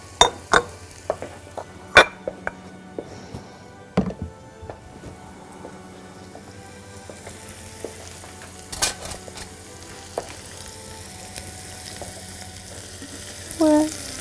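Cabbage and onion frying in a pan, a steady sizzle broken by repeated scrapes and knocks of a utensil stirring against the pan, close and fairly loud with no talking.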